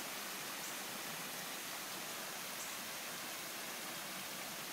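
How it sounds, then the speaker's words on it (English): A waterfall on a rural property in Columbia, New Jersey gives off a faint, steady, distant hiss of rushing water, even and unbroken, with no voices present. "our second waterfall"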